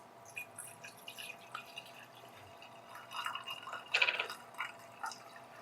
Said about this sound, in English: So we'll go ahead and we'll pour in our vinegar